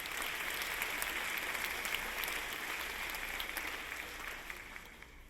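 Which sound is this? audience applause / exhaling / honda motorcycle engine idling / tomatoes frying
audience applause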